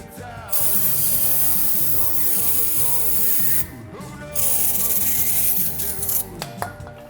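A brake piston compressor tool being tightened on a 2012-2017 Hyundai Accent gives two long bursts of close, squeaky, grinding metallic cranking, separated by a short pause.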